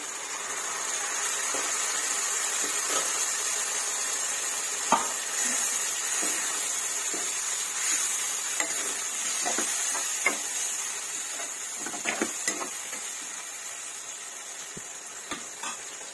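Tomato frying with onions and curry leaves for a dry prawn curry, a steady hissing sizzle with occasional crackles and stirring clinks throughout.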